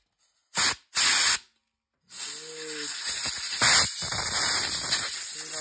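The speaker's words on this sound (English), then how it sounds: "Grab your air compressor with an air hose, like so, and you're just going to want to spray off your carburetor" Two short bursts of hissing air, then a longer continuous spray from a compressed-air hose cleaning a weed eater carburetor, close and fairly loud with a faint tonal whine underneath.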